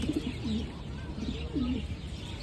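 Pigeons coo in low, soft, rolling calls, two or three phrases close by over a steady background hiss.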